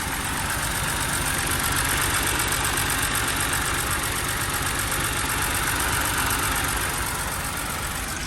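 A BMW car engine idles steadily just after a valve cover gasket replacement, a loud, constant close-up hum that runs evenly throughout with no voices.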